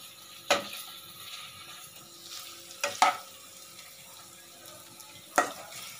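Potatoes, peas and paneer tossed with fried onions in a pan, giving a low background sizzle broken by three sharp scrapes of a spoon at spaced intervals.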